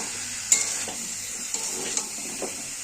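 A spice paste with cumin, turmeric and chilli being sautéed for a cauliflower and potato curry, a soft steady sizzle with a few sharp spoon clinks against the pot, close, with no talking.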